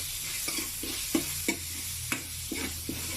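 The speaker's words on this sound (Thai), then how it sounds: "ผัดไปเรื่อยๆครับพี่น้อง" Pork stir-frying in hot oil in a home kitchen, a steady loud sizzle with regular scraping stirs of the utensil about every half second, close and without voices.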